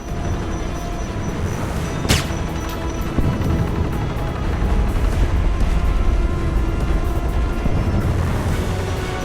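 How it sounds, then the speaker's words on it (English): A helicopter in the video game Alpha Protocol drones with a dense, constant low rotor rumble, joined by a sharp impact early on and scattered thuds of gunfire or explosions. "No, there's another helicopter in the way."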